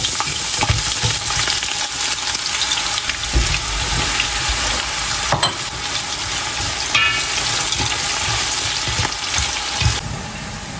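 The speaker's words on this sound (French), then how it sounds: "J'ai mis l'huile à chauffer, donc je vais rajouter les oignons." Onions fry in hot oil for chicken tikka biryani, a loud dense crackling sizzle close to the ear, with occasional spoon clinks and stirring scrapes running through it.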